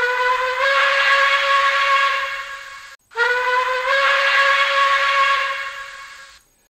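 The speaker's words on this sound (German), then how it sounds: "F3 Dampfpfeife lang." A long steam whistle plays from a PIKO BR 82 N-scale model locomotive. Two loud, sustained hissing blasts of about three seconds each are separated by a tiny break.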